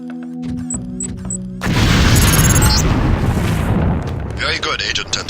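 A LAM explosive detonates in the Deus Ex video game, a sudden loud boom with a long rumbling roar that fades over several seconds after brief electronic beeps.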